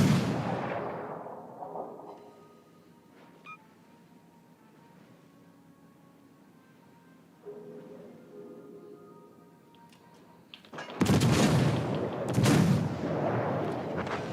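Naval guns on a warship's front turrets fire in a video game as heavy booming blasts near the end, with a quieter rumbling battle ambience before them.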